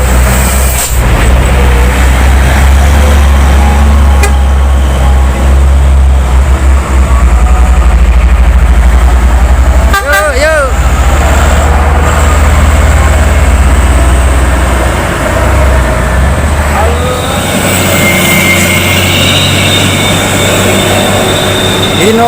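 A Hino 500 truck engine labours up a steep hill where a line of trucks queues, giving a loud, steady, heavy drone that holds throughout with no voices.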